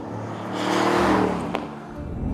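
A 2024 Aston Martin Vantage's engine and exhaust, heard from inside while driving, rising in a smooth, loud rev that swells and eases back over a couple of seconds, with no talk.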